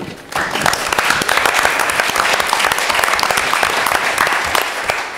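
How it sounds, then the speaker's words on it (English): Attendees at a school board meeting break into applause for a vice president being congratulated, a full, steady burst of clapping that rises quickly and holds evenly. "She's here, so we should applaud her."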